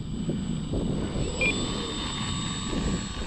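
Dynam C-47 electric RC plane with counter-rotating inward-turning props on a 3-cell 2200 battery, flying with a steady whining motor drone and faint high tone, fairly distant and continuous.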